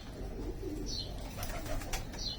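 Pigeons, including English tipplers, Iraqi and Iranian birds, coo softly close by amid faint background rustle and a brief flutter, low and quiet throughout.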